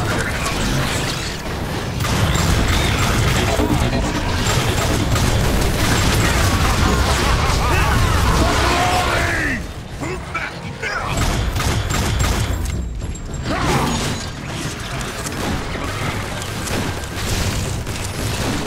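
Gunfire and explosions rage in Transformers: War for Cybertron, with heavy booms and dense rattling shots in a loud, chaotic battle mix, easing briefly before the barrage resumes.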